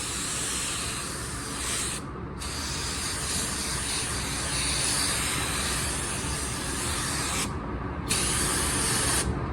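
A spray gun applies waterborne car paint as a base coat before clearcoat, giving a loud, steady hiss of close spraying that runs almost continuously, with two brief pauses where the trigger is released.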